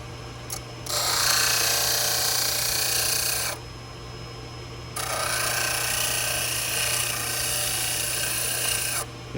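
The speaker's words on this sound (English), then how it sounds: "Now we're just going to take that wheel through and shape the external and internal surfaces" A rotary wheel grinds a 3D printed full arch implant prosthesis, shaping its surfaces and removing flanges, in two sustained bursts of bright, gritty abrasion separated by a brief lull over a steady low motor hum.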